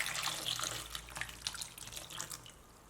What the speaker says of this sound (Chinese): 再加入清水